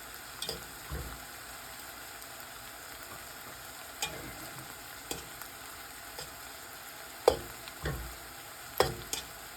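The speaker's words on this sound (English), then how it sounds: "And then I'm going to add some of my pasta sauce to the pasta. And we're going to mix this around." Angel hair pasta stirred with pasta sauce in a pan: soft wet scraping and occasional utensil taps against the pot, fairly quiet with a faint steady background hiss.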